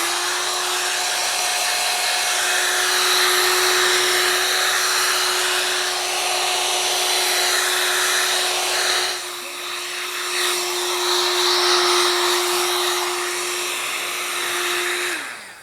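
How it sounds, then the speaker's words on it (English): A heat gun blows hot air over the wrap of a gift basket set on a Lazy Susan, a steady close whirring roar with a constant motor whine that dips briefly midway and then continues. "now we're going to take the heat gun"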